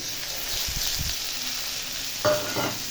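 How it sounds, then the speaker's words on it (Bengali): Chopped tomato sizzles and fries in a hot pan, a steady crackle with a few stirring scrapes and a louder clatter near the end. "ততক্ষণ টমেটোটা না গলছে ততক্ষণ আমি এটা ভেজে নেব"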